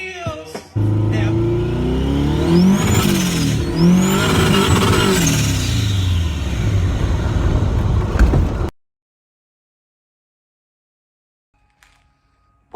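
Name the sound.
VW Ghia with Subaru engine revving, spinning wheels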